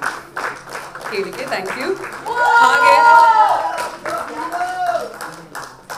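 Audience clapping and applause at a Kannada movie event, a steady patter of hands under a presenter speaking into a microphone, with some cheering swelling in the middle.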